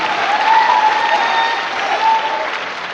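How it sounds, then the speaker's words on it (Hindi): Seminar audience in Patna breaks into sustained, dense applause, steady and loud throughout with no pause, the hall filled with many hands clapping at once. "आपके लिए जोरदार ताली"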